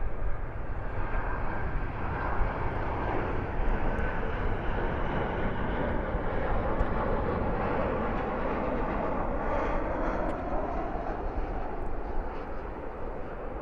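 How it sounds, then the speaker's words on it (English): An American Airlines Boeing 777-200ER jet arriving from Venice at Dallas Fort Worth airport at night, giving a loud, steady broadband engine roar that carries evenly for over thirteen seconds with no talk. "American Airlines 131, the 777-200ER coming in from Venice."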